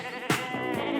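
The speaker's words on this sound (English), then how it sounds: "I like the sheep" Sheep bleating in a Norwegian rural setting, two short bleats about half a second apart, moderately close and clear over faint background hiss.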